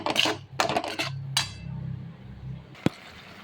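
A metal spoon clanks and scrapes against a pan while cooked pigeon peas (tur) are sautéed, giving a few loud clattering strokes, a quieter scraping stretch and one sharp ringing tap near the end.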